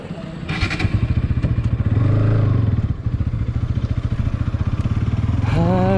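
A motorcycle engine runs close by on a ride out to Manchanabele Dam, with a loud, steady pulsing thump that swells slightly midway and rises in pitch near the end.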